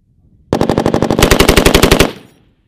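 A machine gun fires one sustained full-auto burst of about twenty rapid shots on a Marine Corps firing range, loud and close, cutting off sharply and leaving a short echoing tail, with no voices.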